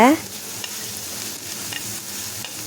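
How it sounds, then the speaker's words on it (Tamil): Okra sliced into a pan frying over a medium flame while being stirred lightly, a moderate continuous sizzle with small scraping ticks from the spatula. "இப்போ மீடியம் ஃப்ளேம்லேயே வச்சுட்டு வெண்டைக்காவை லைட்டாக கிளறி விடுங்க"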